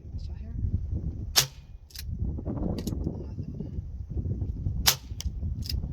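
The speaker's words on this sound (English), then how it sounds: "Let's see what this gun will do here with the pellets." A Crosman Vigilante air pistol fires pellets in two sharp, close cracks a few seconds apart, each followed by a brief metallic ring, over a steady low background rumble.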